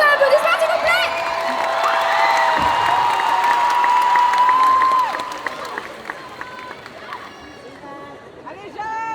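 Crowd at a cosplay contest at the Japan Addict Z convention clapping, cheering and whooping, a dense sustained roar under music that fades partway through, leaving scattered claps and voices.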